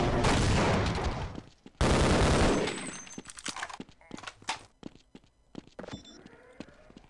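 A mounted gun fires in the video game Half-Life, two sustained, loud bursts of rapid gunfire up close, followed by scattered heavier impacts and explosive thuds that trail off into sparse clatter.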